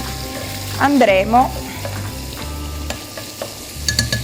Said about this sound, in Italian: Non appena le sarde saranno ben rosolate e colorate